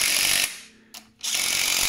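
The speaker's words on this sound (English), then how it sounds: "This little 20 volt impact is just a it's not super powerful," A small 20 volt cordless impact wrench working on a CRF dirt bike chain tensioner, two loud close bursts of rapid hammering separated by a short pause with a brief click.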